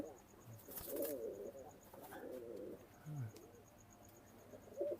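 Pigeons coo in a few soft, low, throaty bursts, close by but quiet, with scattered chirps, a faint steady high tone and some rustling around them.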